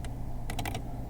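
Keys on a computer keyboard tapped a few times in a quick burst, close and clear over a low steady room hum, while filling in an engineering drawing.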